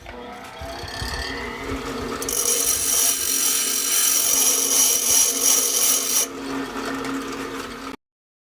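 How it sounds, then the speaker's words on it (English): A grinder takes the end off a steel rod being made into a threaded replacement part for a Mosrite guitar tailpiece, a close, loud, steady abrasive whine lasting several seconds before it cuts out abruptly. "I'm going to go grind to the end off of it"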